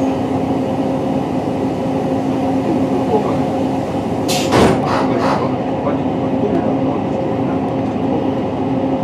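A train pulls away from Llandovery station on the Heart of Wales line in Wales, giving a steady, loud rumble throughout with a brief clank or squeal burst midway.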